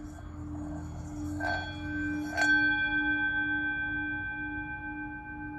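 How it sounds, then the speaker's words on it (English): Two clear bell strikes about a second apart, each leaving a long bright ringing tone that slowly fades over a low steady hum, with no talk. "Let me ring a bell for us today."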